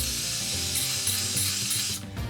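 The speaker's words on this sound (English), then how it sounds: "spray them out more than once with the brake cleaner" A steady aerosol spray of brake cleaner hisses continuously at close range as hydraulic parts are flushed, with faint rubbing and clinking of metal parts underneath, briefly dipping near the end.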